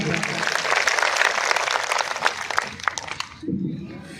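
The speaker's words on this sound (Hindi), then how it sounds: "जोरदार तालियों से स्वागत करिए एक बार हल्का के" Crowd at a political gathering with a cabinet minister claps in welcome, a loud, dense burst of applause that carries on for about three seconds before fading, with a voice coming in as it dies away.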